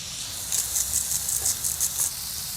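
Lean mince frying in a hot pan for a chilli and garlic Cape bobotie, a steady soft sizzle with faint crackling pops running throughout, close and moderately quiet, no talking.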